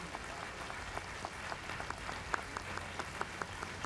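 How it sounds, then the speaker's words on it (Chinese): A crowd at the 2000 presidential inauguration ceremony applauds in thanks to President Lee Teng-hui; the clapping is faint and distant, a steady patter with occasional sharper claps. "让我们大家以热烈掌声谢谢李总统，在过去12年来对我们国家所做的贡献"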